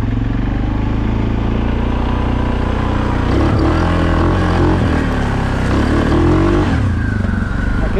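A Suzuki KingQuad 750 four-wheeler engine runs close by with a loud, steady throbbing drone, rising slightly in pitch midway before settling back.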